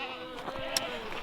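Goats bleat in an outdoor pasture, with a few wavering calls close by and one sharper cry in the middle.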